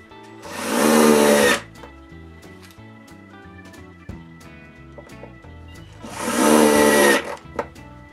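An electric screwdriver drives screws to fix a turntable onto a wooden circle of a shoe rack, with two short, close motor bursts separated by a few seconds of quiet workshop clatter.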